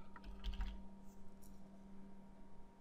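Quick burst of keystrokes on a computer keyboard, close and crisp near the start, then fading to light scattered taps over faint room hum while entering a search in Unreal Engine 4.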